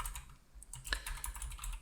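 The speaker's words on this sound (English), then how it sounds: "My keyboard is right here. Mic is in front. I can type." Quick, steady keystrokes on a computer keyboard sit close to the mic, with an even clatter of fast typing and no voices.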